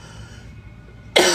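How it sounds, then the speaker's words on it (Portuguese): A single sharp cough bursts out close to the microphone after a stretch of quiet room tone. "gostaria de pedir desculpas aí por causa da minha tosse"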